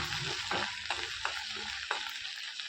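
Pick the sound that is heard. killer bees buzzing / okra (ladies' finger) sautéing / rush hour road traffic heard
okra (ladies' finger) sautéing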